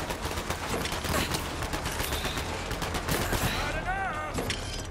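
Shotgun blasts from a video game, fired in a rapid run of loud, close reports over a dense, noisy game soundscape, with a voice talking partway through.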